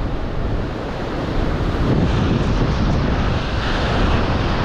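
Ocean waves crash and wash below a fishing cliff, a loud, continuous roar of surf with gusting wind buffeting the microphone and no voices.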